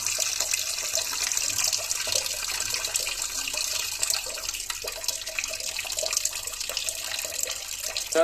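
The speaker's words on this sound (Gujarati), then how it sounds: "અહીંયા અમે જોઈ શકીએ છીએ તો ગરમ પાણી આવી ગયું છે" Hot water pours steadily from the tap of an instant mini water geyser, a continuous hissing, splashing flow with no pauses, heard close up.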